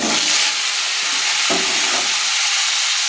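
Steamed cauliflower and potato pieces fry in a pan, a loud continuous sizzle with brief stirring scrapes, no voices over it.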